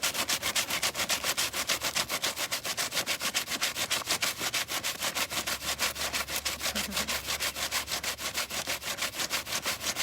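Fine sandpaper is rubbed back and forth by hand in quick, even strokes, a steady rasping rhythm that carries on alone without pause.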